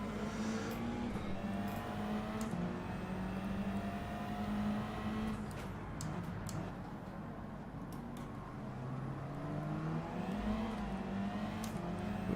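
A race car in Gran Turismo 7 at Fuji, rear tyres briefly spinning, heard as a steady, loud engine drone with shifting pitch throughout, continuous and close.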